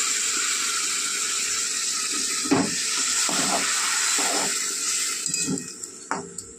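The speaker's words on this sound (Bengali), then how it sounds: "কষানো হয়ে গিয়েছে, এবার অল্প পরিমাণ জল দিয়ে দেব।" A little water poured into a pan of frying green tomato gives a close, loud steaming hiss and sizzle, swelling in bursts as it is stirred and fading toward the end.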